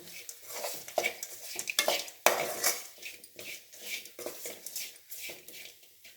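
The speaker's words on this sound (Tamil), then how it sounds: "இப்போ குழம்புக்கு தேவையான சாம்பார் தூள் இதை நல்லா வதக்கணும்" Sambar powder sautéing in oil in a metal pan, with repeated scraping and clinking of a spoon against the pan over a light sizzle in an irregular stirring rhythm.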